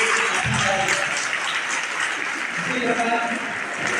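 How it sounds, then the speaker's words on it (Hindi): Assembled devotees at a sannyasa initiation ceremony clapping to welcome a new initiate, a sustained round of applause at moderate loudness with faint voices and murmurs mixed in. "जोरदार तालियों से स्वागत करें।"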